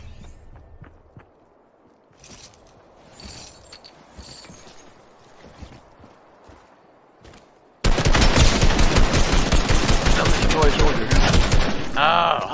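Gunfire in a Fortnite firefight: sparse shots and footsteps at first, then a loud, dense burst of rapid automatic fire that fills the last few seconds, with some speech mixed in.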